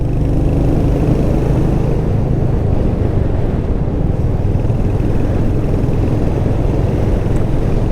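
A Royal Enfield Hunter 350 motorcycle engine with a short silencer idles at low revs, giving a loud, steady, deep rumbling thump with wind buffeting the microphone throughout.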